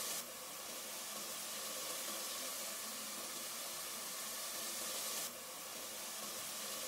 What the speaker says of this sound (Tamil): இதை சேர்த்து நல்லா அரைச்சிக்கோங்க